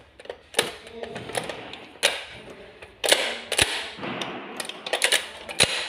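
A model of a manual transmission is turned and shifted into first gear, giving a series of sharp mechanical clicks and clunks with faint rattles between them, close up.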